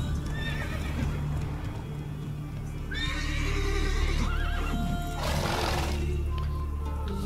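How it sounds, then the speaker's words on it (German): A horse in the Witcher 3: Wild Hunt video game whinnies twice, loud and close, over steady hoof clip-clops and a low ambient background drone. "Genug Pferde begafft."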